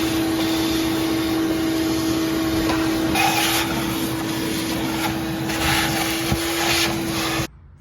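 A drill-driven pre-lube tool whirs steadily and loudly, pumping oil through the 440 engine of a 1970 Plymouth Roadrunner that has sat for 32 years. A thin tone and faint clicks accompany it, and the sound stops abruptly at the end.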